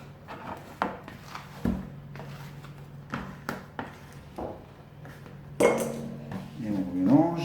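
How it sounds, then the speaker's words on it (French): A plastic pastry scraper drags around the edges of a mixing bowl of marble cake batter in a kitchen, giving soft scrapes and light knocks, then a louder clatter and rasp near the end. "Un petit coup de corne sur les bords."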